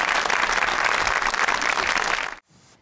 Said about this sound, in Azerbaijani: Alqışlarınızla biz başladıq.